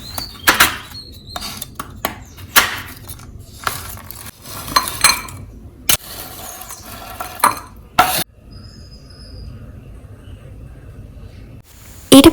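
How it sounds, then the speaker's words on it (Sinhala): A knife chopping jaggery into small pieces, with repeated sharp knocks of the blade on the board at an irregular pace and a few metallic clinks, close and clear, and no talking. "දැන් මම මගේ හකුරු ටික මේ විදිහට චූටි කොටස් වලට කපා ගන්නවා."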